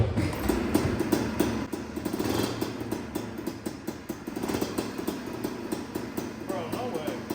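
A Honda PA50 moped engine runs close by after a carburetor replacement, with a steady rapid two-stroke putter that rises and falls slightly while a person talks over it.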